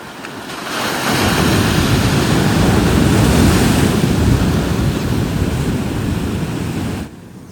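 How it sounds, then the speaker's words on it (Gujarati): Large sea waves crash and roar during a storm off the Gujarat coast, one long, loud, close surge of surf with heavy wind buffeting the microphone, then a sudden drop near the end, with no voices. "હવે મોજા થોડાક નાના આવી છે એકાદ બે મોટા આવી છે"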